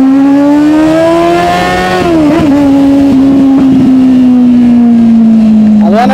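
A Kawasaki Z800 motorcycle engine revs loud and close, a strong steady drone that dips briefly then holds high and climbs again at the end, alone without talk.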